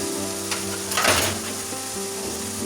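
Kurma masala seasoned with salt fries in a pan with a steady close sizzle, and a brief burst of stirring scrapes rises out of it near the middle.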